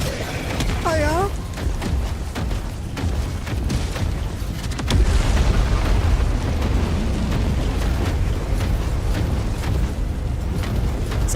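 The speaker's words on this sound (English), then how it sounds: "Somehow the explosions sound wet." Explosions from the video game Helldivers 2, a dense barrage of booms and bursts rolling continuously under heavy game noise, loud and close with no pause.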